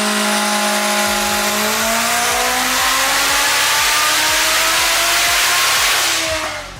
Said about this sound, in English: they've got that all-wheel drive Civic.